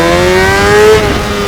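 Honda CBR600RR motorcycle engine revving hard, a loud, close rising whine with clear harmonic tones that climb then drop off briefly, with no talking.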